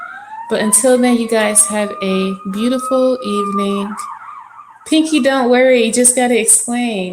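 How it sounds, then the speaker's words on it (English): An emergency vehicle siren wails from outside, its rising and falling tone running steadily beneath someone talking nearby and briefly standing out alone in a short pause between her words. "I'm sorry about the siren."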